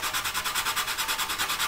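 Quick, even back-and-forth strokes of sanding on the plastic of a 1/48 Academy SU-27UB Flanker model kit, a steady rhythmic rasp heard alone and close up.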